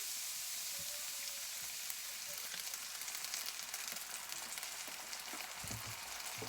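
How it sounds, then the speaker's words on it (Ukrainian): Garlic scapes frying in oil in a hot pan, a quiet steady sizzle and crackle with a few soft stirring knocks, no talk. "Сковорідка в мене нагрілась, додаю трохи олії і висипаю ось смакоту."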